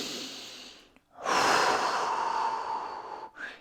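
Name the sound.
deep breathing during fascial release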